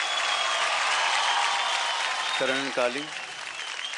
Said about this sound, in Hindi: तो जोरदार तालियां हो जाए राजीव के रॉकर्स के डबल्स करण और कालिंग के लिए।